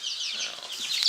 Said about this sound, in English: This is our no-footed chicken.